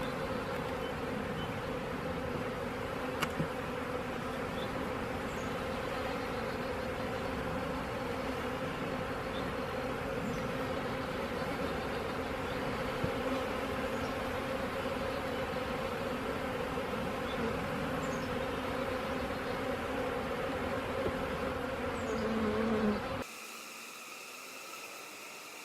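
Honeybees from a nuc being installed into a hive drone in a steady, dense buzz that holds throughout at close range, with no talk, before cutting off abruptly near the end.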